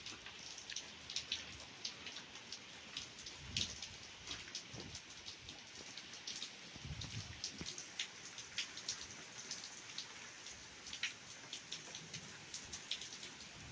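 Steady rain falls with a soft, even patter of drops on a surface, quiet but continuous throughout.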